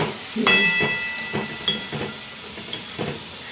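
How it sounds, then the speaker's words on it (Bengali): Grated coconut is stirred into thick, bubbling jaggery syrup in a pan for Bengali patisapta. A utensil scrapes the bottom in a steady series of short, rhythmic strokes over a soft background hiss. "নারকেলটা দেওয়ার পর কিন্তু অনবরত নাড়িয়ে যেতে হবে"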